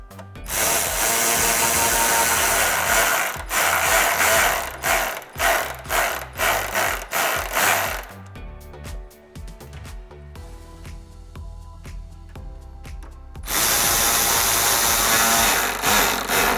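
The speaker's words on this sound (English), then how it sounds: "Again, using your stock hardware, secure your bumper with your 10mm socket." Hand ratchet with a 10mm socket tightens the stock bolts holding a 2005-2009 Mustang bumper, giving rapid loud clicking bursts in close, repeated strokes, with a quieter pause midway before clicking resumes.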